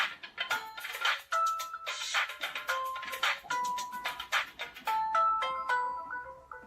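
A smartphone ringtone plays a bright, bouncy electronic melody of quick chiming notes with percussive clicks, loud and close, repeating its phrase without any talking.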